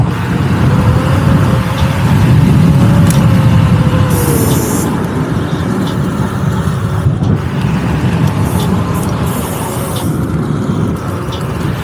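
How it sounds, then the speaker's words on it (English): A Vsett 10+ electric scooter riding along a wooded trail, a loud continuous rush of wind and rolling noise with a faint motor whine, occasional bumps and rattles throughout, no talk. "Show you guys what this Vsett can do in the woods."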